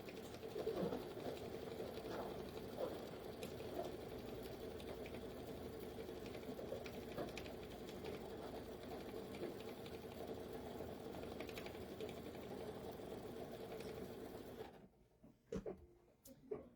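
Embroidery sewing machine stitching dimensional wing detail on a quilt block, a steady rapid mechanical whirr running continuously at low level before stopping near the end with a few clicks.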